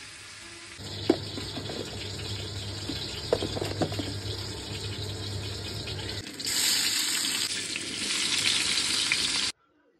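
Coriander leaves and potato leaves fry in a frying pan with a steady hiss and sizzle, growing louder in the last few seconds before stopping abruptly.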